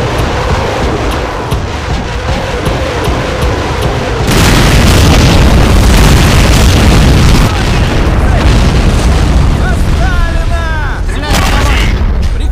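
Rocket artillery barrage from a Land Mattress launcher in Men of War, a dense run of booms and explosions that grows heavier partway through, with battle noise continuing throughout and talk mixed in.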